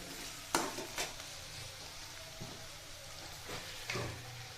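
Par-boiled potatoes and onions sizzle softly in a frying pan, with a few stirring scrapes and clinks of a spatula against the pan over a steady frying hiss.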